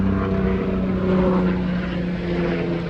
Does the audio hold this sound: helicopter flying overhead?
yes